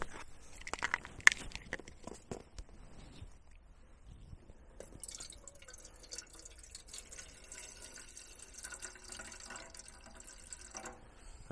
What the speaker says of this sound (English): Get some water going so I make some coffee.